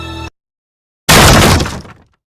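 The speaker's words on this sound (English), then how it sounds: "A crash came from the front door." A barricaded front door is smashed in with one loud, sudden crash of breaking wood and debris that rings out and decays over about a second, following a brief tone and silence.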